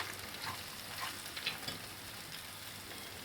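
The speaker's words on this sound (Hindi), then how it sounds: "अदरक, हरी मिर्च और लहसुन का पेस्ट अच्छे से भून चुका है।" Ginger, green chili and garlic paste fries steadily in a pan, a soft continuous sizzle with a few light scraping stirs, fairly quiet and with no voices.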